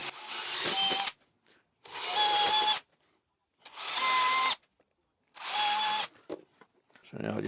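A power drill whirs in four separate bursts of about a second each, pre-drilling and driving screws into wood, with short pauses and faint handling noises between them.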